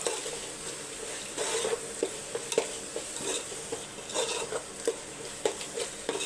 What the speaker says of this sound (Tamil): அப்படியே வதங்கட்டும்